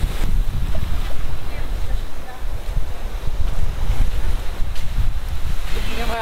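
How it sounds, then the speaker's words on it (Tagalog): Ocean waves wash steadily onto Bato Beach on Polillo Island, Quezon, under heavy wind buffeting the microphone, a continuous loud roar with no clear breaks. "ganda yung alon, oh"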